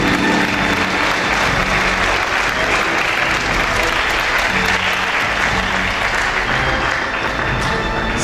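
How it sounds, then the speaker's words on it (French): Sustained, loud applause from an audience at the Miss Oise 2020 pageant results announcement, dense and unbroken clapping filling the room throughout. "Applaudissements."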